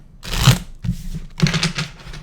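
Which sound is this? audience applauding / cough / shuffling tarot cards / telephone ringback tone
shuffling tarot cards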